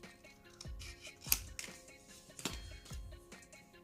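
Scissors cut straight along the bottom edge of a sheet of music paper, making a series of crisp, close snips and rustles at an uneven rhythm, fairly faint.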